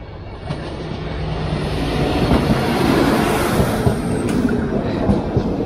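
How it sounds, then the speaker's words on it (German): A train rolls past a level crossing with a loud, steady rumble and rattling wheels that swell as it goes by, joined by a faint high squeal and no talk. "Weil hier dieser, dieser widerliche Zug hier durchkommt."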